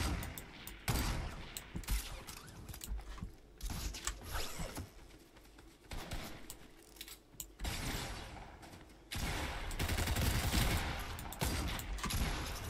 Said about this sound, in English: where are we being shot at now?